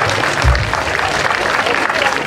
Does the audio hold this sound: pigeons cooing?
no